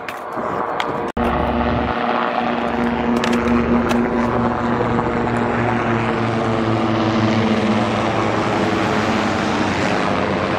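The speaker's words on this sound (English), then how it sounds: "Helicopters in there." A helicopter passes over a skate session, its loud, steady rotor and engine drone filling the air after a sharp clack, holding close and strong throughout.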